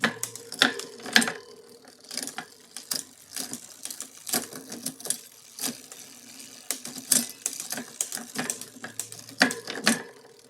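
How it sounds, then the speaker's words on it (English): A RadCity 5 Plus electric bike's drivetrain is run down through the gears, producing a steady mechanical ticking and clicking with sharper shift clunks, close and without speech. "I'm going to come down through the gears and see how it's feeling"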